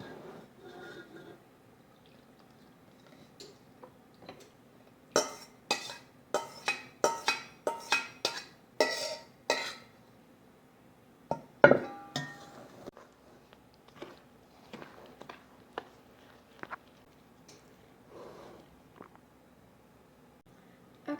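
Wet and dry brownie ingredients mixed together in a bowl, with a quick run of sharp utensil clinks and scrapes against the bowl in the middle and scattered softer knocks before and after, close and fairly loud.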